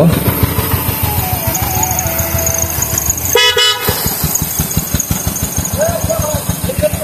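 A motorcycle rides through traffic on the way home after buying an Eid sacrificial cow, with a close, pulsing engine throb, a brief horn toot midway and faint voices underneath.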